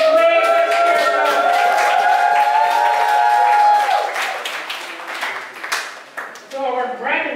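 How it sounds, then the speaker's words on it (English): Church graduation audience applauding for program graduates, steady clapping rising after a man sings, with scattered cheers mixed in. "let us raise a cheer now"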